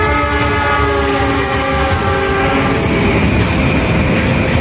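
A train rolls past an Indonesian railway station at night, its horn blaring a long sustained tone over heavy, continuous rail rumble and clatter, loud and close.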